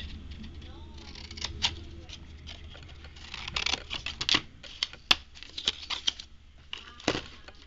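Paper being cut with scissors, an irregular run of crisp snips and light crinkles, close and moderately quiet, with faint voices now and then.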